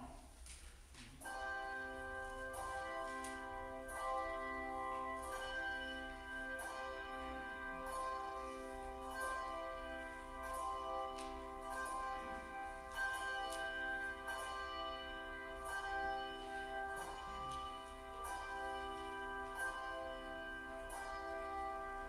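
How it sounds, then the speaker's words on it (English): Church bells ring in a steady, overlapping peal during a church service, their sustained tones layering with regular strikes throughout, without any speech. "we will sing it after the pealing of the bells"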